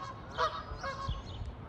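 Canada geese honking nearby outdoors, several short nasal honks overlapping in a brief flurry over a low background rumble.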